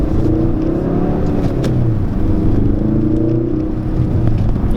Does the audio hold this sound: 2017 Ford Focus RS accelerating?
yes